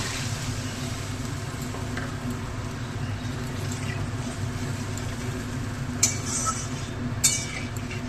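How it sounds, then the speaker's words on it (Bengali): Spice paste with salt and turmeric frying in oil in a pan, a steady sizzle running throughout with a couple of sharp clinks of a utensil against the pan near the end. "এবার মশলাটাকে একটুখানি ভালো মতন কষতে দেব"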